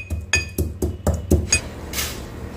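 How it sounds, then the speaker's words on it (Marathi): Fennel seeds are coarsely pounded for a raw mango pickle, with about six sharp, hard knocks landing in an even, steady rhythm, followed by a softer scraping sound. "थोडंसं ओबडधोबडच कुटायचं आहे"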